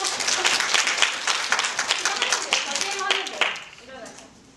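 Staff at an indoor company speech-training session clap together loudly with sharp, overlapping hand claps. A few voices mix in before the applause tapers off and fades near the end.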